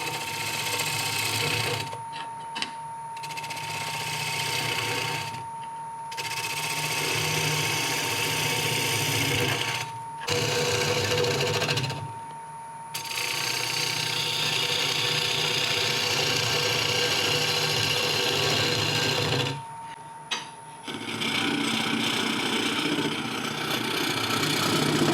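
Wood lathe spinning at 900 RPM while a 5/8 inch bowl gouge hollows out a wooden hollow form, giving a steady whirring hum with rough scraping cuts broken by several short pauses.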